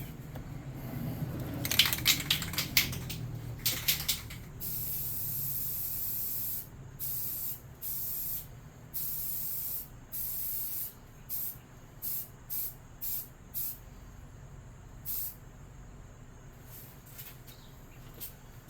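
Aerosol spray hissing: a few short bursts and rattles early, then a long continuous spray followed by a series of regular short sprays.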